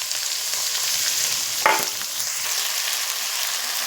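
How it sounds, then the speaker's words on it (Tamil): Something sautés in a pan over a low flame with a steady hissing sizzle, interrupted by one brief louder stir or scrape partway through, close and alone with no talk. "அடுத்து லோ ஃப்ளேமில் வச்சுட்டு வதக்குங்க"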